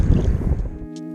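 Strong wind buffets a microphone on a kayak out on the water in winds over 20 mph, a loud continuous low rumble and roar with no voices.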